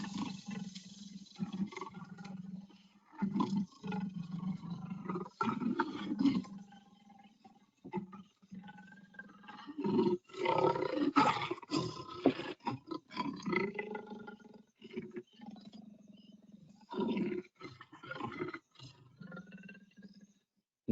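Legendary African leopards give deep, rasping roars in repeated grunting bursts, loud and close with short pauses between calls and no voices.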